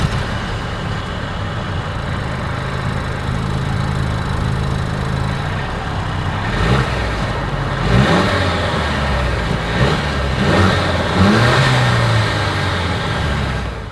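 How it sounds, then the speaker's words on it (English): A 2023 Mercedes-Benz C 300 Coupe's exhaust idles with a steady low rumble, then gives several revs that swell and fall back, close and loud with nobody talking. "As always, here is that exhaust clip."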